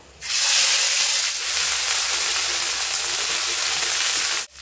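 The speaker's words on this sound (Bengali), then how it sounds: "আদা রসুন একটু ভাজা ভাজা হয়ে গেছে" Ginger-garlic paste with turmeric hits hot oil for a Bengali mustard boal fish curry, bursting into a loud, steady sizzle that hisses evenly for about four seconds, then cuts off abruptly.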